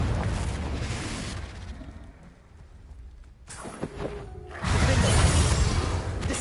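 A magical blasting spell in Hogwarts Legacy, a loud rumbling, crackling explosion that fades to a quieter lull, then a second heavy roaring blast surges up and holds.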